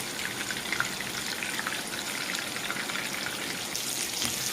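Raw minced beef kababs and kofte fry in shallow oil with a dense, steady crackling sizzle that stays close and even throughout, no voices over it.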